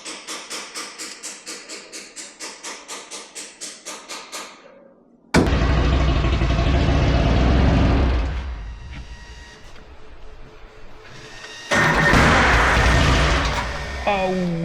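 Classic car at the Coq Show being taken for a test drive, its engine chugging in a steady pulsing rhythm that cuts out, then a loud sustained rumble and revving up close, with people talking over parts.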